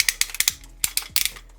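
A Transformers Dinobot toy's knee ratchet joint clicks in quick bursts of sharp, close plastic ratchet clicks with short pauses between, heard alone.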